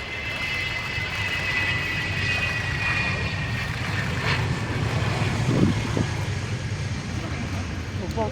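An F-4 Phantom jet at an air show: a steady, broad rumbling roar of jet engines, heard continuously at moderate distance throughout.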